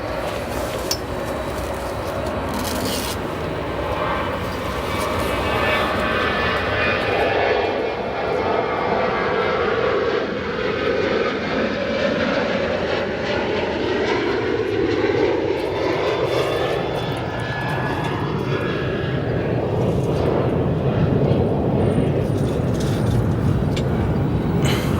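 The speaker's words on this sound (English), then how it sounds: "Here's our WestJet 737-800." A WestJet Boeing 737-800 jet at O'Hare Airport gives off a steady, loud engine roar with a sweeping whine that rises and falls as it moves, heard at a distance with no talking.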